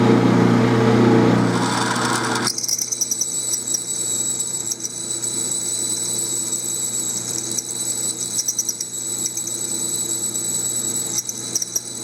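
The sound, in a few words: drilling 303 stainless steel with 45/64 drill bit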